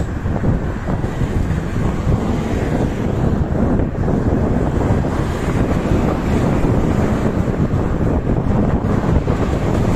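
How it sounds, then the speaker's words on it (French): Strong wind buffets the microphone on the Portuguese coast by the sea, a loud, continuous roar with no letup and no talk. "Ah, il y a du vent ici."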